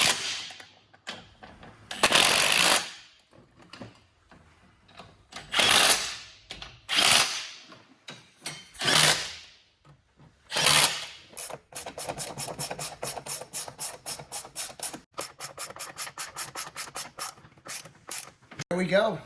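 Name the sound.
tightening golf cart running board bolts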